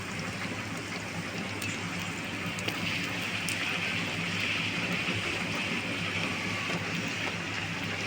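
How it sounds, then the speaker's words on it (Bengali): Rolled bhatura dough frying in hot oil, a dense, steady sizzle and bubbling hiss that holds evenly throughout, close and fairly loud with no talk. "এটাকেও সুন্দর করে আমি একদম ফ্রাই করে নেব"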